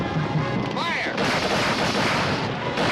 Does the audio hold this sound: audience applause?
no